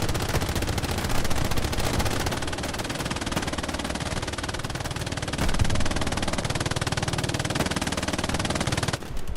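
Continuous rapid MG42 machine gun fire in a D-Day video game, a relentless dense rattle with heavier anti-tank gun thumps mixed in, loud and close, cutting off just before the end.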